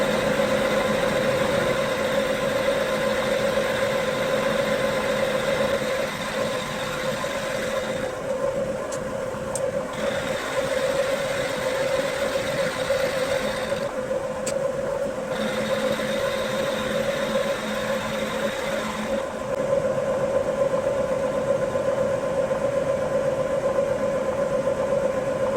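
A manual milling machine runs on power feed with a steady mechanical drone and a constant motor whine that hold for the whole stretch. The sound is moderately loud, and a few faint knocks break in now and then.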